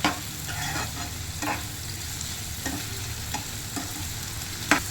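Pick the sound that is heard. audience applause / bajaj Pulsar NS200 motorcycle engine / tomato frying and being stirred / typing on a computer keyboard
tomato frying and being stirred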